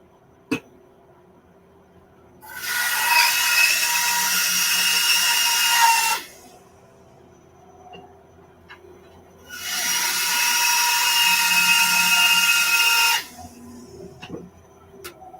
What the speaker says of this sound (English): Going to do a little bit of bandsaw work.